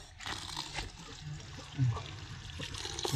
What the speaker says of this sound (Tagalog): Tapos lalagyan lang natin ng kunting tubig para mahalo ng maigi yung vitamins na nilagay natin mga tropa.